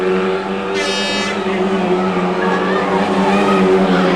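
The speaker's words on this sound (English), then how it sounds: "So just checking on the noise of one of those leading cars." A loud saloon race car engine roars steadily throughout, with a brief high-pitched whine early on, close and continuous.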